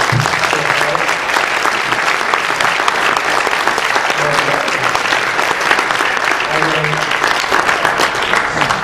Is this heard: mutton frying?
no